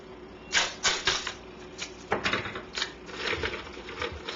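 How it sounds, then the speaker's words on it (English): Masking tape tugged off its roll in a few quick sharp rips, close and fairly quiet, with a short pause before more tearing strips follow, no talking. "Now I'm going to use some masking tape."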